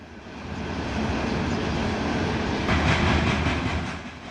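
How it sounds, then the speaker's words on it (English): A heavy coal freight train rolls steadily through Glenwood Springs, Colorado, a broad continuous rumble of wheels and cars building slightly and holding loud throughout with faint rhythmic clatter, no voices. "a coal train moving through Glenwood Springs, Colorado"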